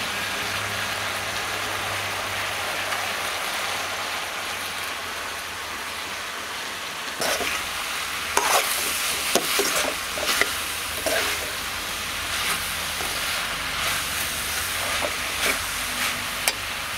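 Chopped vegetables sauté in a pan for village-style hotel sambar, giving a steady, rain-like hiss of sizzling oil that turns more crackly and spattery partway through, with occasional sharper pops.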